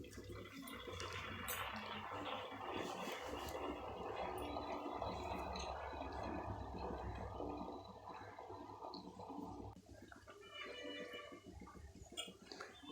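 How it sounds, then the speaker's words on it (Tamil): A pot of lentil-free, sambar-style curry boils on the stove, giving a faint, steady bubbling and gurgling that carries on throughout with no talk. "இப்போ குழம்பு நல்லா கொதிக்க ஆரம்பிச்சிடுச்சு."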